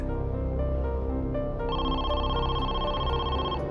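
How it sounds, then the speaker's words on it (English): A telephone rings in a true-crime scene about an evening call to a family, its bright tonal ring sustained and fairly loud over a low background bed of music. "At 9 p.m., Darnell's sister received a phone call"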